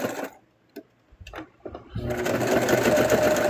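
A sewing machine stitches thick plush fabric, starting with a few short stuttering bursts and then settling into a loud, steady whirring run that continues to the end, with no voices over it.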